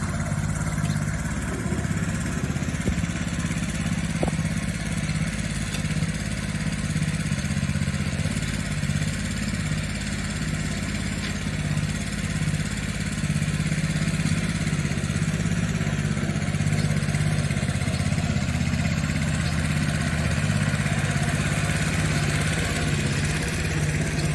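A mini tractor's small engine idles steadily and close by, a continuous low chugging rumble with no talking.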